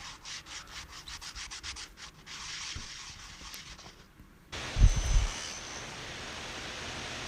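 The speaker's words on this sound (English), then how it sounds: "After I had them glued, I just sanded them down by hand to get them smooth." Glued wooden segments for a turned Christmas ornament get rubbed smooth by hand, a soft rhythmic scraping of sandpaper on wood that fades and is followed by a louder, brief burst of rougher noise.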